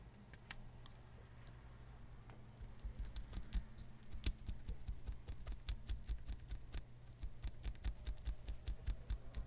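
Keyboard key fitted with a heat-shrink tubing stabiliser mod, pressed repeatedly: a run of sharp, close clicks and taps, sparse at first then quicker and denser, over a low steady hum with no talk.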